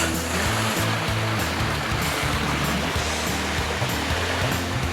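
Rushing water of a mountain stream tumbling over rocks in the Jigokudani ravine on Mount Rokko, a loud, constant roaring wash close by with no voices over it.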